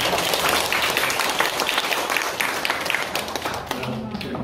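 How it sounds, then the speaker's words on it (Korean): A crowd of senior citizens at a welfare centre gathering gives loud, sustained applause for the club president, steady dense clapping throughout with a slight tapering at the end and murmuring voices beneath. "박수 많이 해주십시오."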